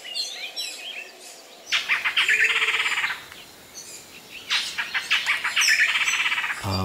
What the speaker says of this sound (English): So I think I'll place a black-headed saltator.